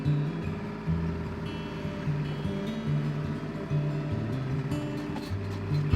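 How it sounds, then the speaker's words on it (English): A tractor moves and piles compost for no-dig garden beds, its engine a steady low rumble with shifting tones throughout, fairly distant and without talk. "on the tractor and he's just kind of moving that compost around a little bit and piling it back up"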